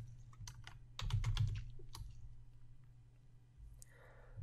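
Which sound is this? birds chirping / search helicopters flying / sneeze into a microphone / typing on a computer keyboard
typing on a computer keyboard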